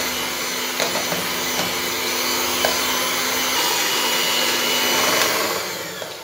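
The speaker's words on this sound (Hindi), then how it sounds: "आप इसके लिए हैंड बीटर भी यूज़ कर सकते हो," Electric beater whipping eggless strawberry cupcake batter, a loud, continuous high whirring motor hum that holds steady, with faint clicks of the beaters against the bowl.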